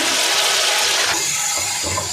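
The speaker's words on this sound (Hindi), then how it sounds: "थोड़ा सा पानी डाल दें ताकि ये आपका मसाला जले नहीं।" Water poured into a pan of cooking masala for chicken tikka pulao, a steady close pouring and splashing rush that fills the whole moment, with a slight shift in tone partway through.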